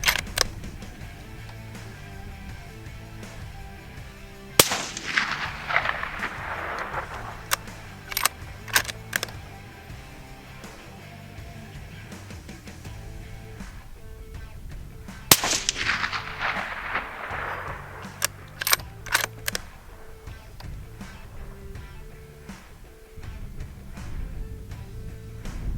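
A suppressed Ruger American Gen 2 rifle fires Remington Core-Lokt 165 grain rounds outdoors. Two sharp reports sound about ten seconds apart, each with a rolling echo, and several smaller clicks fall between them.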